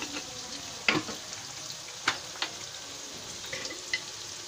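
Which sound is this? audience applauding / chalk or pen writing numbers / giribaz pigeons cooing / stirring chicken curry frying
stirring chicken curry frying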